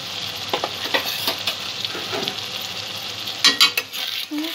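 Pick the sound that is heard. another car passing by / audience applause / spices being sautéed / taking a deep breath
spices being sautéed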